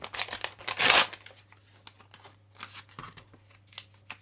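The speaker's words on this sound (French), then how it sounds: "Ici, je mets une chute de papier" A scrap of paper is crinkled and placed down with a sharp rustle, followed by lighter scattered paper shuffles and taps at close range, quiet and without talking.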